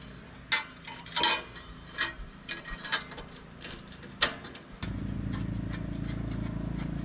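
A Can-Am X3 with an RPM muffler delete race pipe fires up after a few clanks and taps of tools and parts, its engine catching abruptly and settling into a loud, steady, throaty idle.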